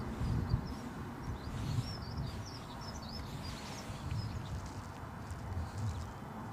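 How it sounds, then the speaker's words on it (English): Faint birds chirp and twitter in the distance at Newcastle International Airport over a steady low rumble of outdoor background noise. "It is nice to hear the birds chirping."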